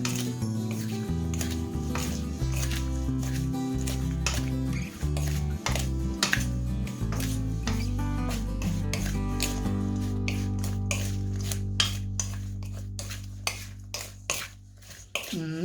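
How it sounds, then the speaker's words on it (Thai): Spicy mango salad ingredients, with fresh chilies, spring onion and garlic shoots, are stirred and tossed in a bowl, making repeated clinking and scraping of utensil against dish in an irregular rhythm, close and fairly loud. "คนทุกอย่างให้เข้ากันค่ะเพื่อน"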